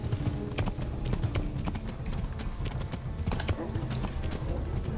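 A horse's hooves clip-clop rapidly and steadily on a road in the medieval video game Kingdom Come: Deliverance, close and continuous over busy background game noise.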